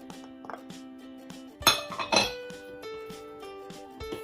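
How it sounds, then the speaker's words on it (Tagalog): Two spoons stir chicken and ham together in a bowl for a creamy chicken macaroni salad, giving close metallic clinks and scrapes in an irregular rhythm, with a louder clattering burst in the middle and a faint background hum. "gagamit ako ng 2 spoon para ma-mix natin ng maigi"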